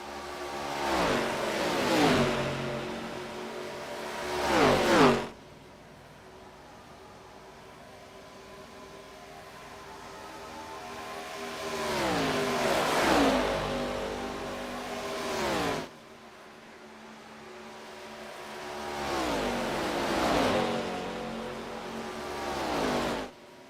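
Race cars roaring past one after another in a sim racing game at Michigan International Speedway, engines swelling to a loud whoosh and fading, three distinct pass-bys spaced several seconds apart with no talk.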